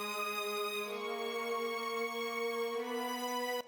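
A string section plays a sustained, swelling chord in a pop song pre-chorus, smooth and steady at moderate volume, rising slightly in pitch toward the end with no voices.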